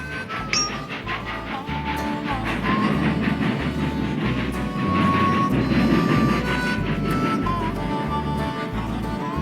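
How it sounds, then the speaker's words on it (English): Black Diamond Express steam train of around 1902 racing along a railroad track, a loud continuous rumble with rhythmic clatter of wheels, steady and close throughout. "Black Diamond Express comes racing toward them."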